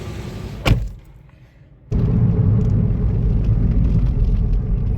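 Cars pulling away to start a road trip from Medinipur, West Bengal: a brief thud, a quiet lull, then a steady loud engine and road rumble that continues to the end.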